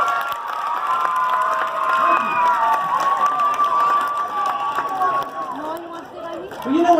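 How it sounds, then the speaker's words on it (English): An elementary school audience of children applauds and cheers for a bass player at a concert, a loud continuous crowd roar with shouts and voices mixed in. "I want a big round of applause"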